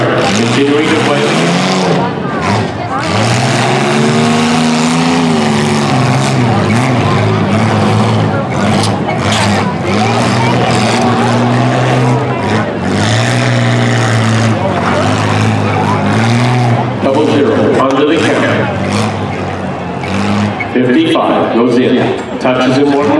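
Cars roar and rev at a mid-size heat of a demolition derby in Milton, Ontario, engines droning loud and steady throughout with scattered impacts, under continuous commentary.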